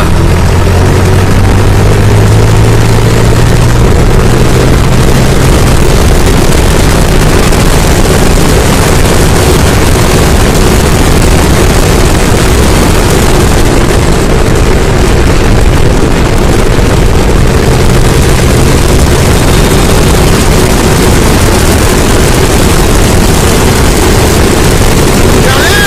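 A Farmtrac 45 tractor engine drives on a road in top gear, a loud, continuous diesel drone with a steady low rumble and some pitch shifts, close and unbroken for the whole stretch.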